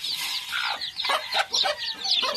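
Hens cluck steadily among a brood of about seventy chicks on a poultry farm, with busy overlapping calls and high peeping running throughout at close range.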